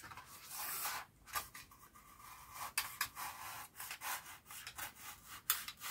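A sharp blade saws through material by hand in short, light strokes that repeatedly restart, producing a faint, uneven rasping and rubbing with no talking.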